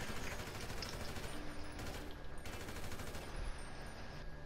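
AK rifle gunfire in GTA 5: dense, continuous automatic fire with a steady rattling texture and a few louder bursts, heard fairly faint and distant, with no talk over it.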